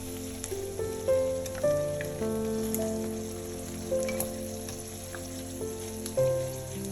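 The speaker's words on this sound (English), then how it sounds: "Strain the cooking oil from the fried yam." Hot cooking oil being strained from golden-fried yam in a kitchen, with steady sizzling and crackling and intermittent metallic clinks from the utensils, close and fairly loud, with no voices.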